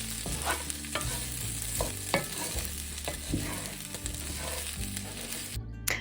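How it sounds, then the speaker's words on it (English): Thick-cut pork chops sizzle and crackle in a hot pan, a steady loud frying hiss with irregular pops and spatters close by, with no voices. "And I'm going to throw in another sizzle shot here."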